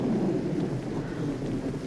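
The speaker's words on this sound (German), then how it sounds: "Sturm und Regen. Windgeschwindigkeiten bis 80 Stundenkilometer. Das haben wir ja jetzt schon." Storm wind with rain, a steady, dense low roar with a soft rushing texture throughout, no voices present.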